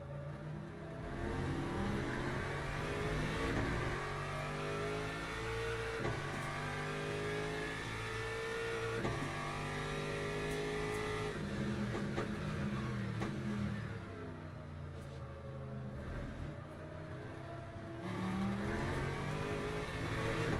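A racing car in a racing video game laps a circuit with a steady engine drone, repeatedly rising and falling through gear changes and revs, loud and continuous.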